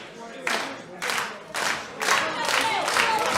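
A wrestling crowd in Newcastle cheers and claps in rhythmic bursts about every half second, a loud, close, roaring wash of voices and hands that swells steadily through the short stretch.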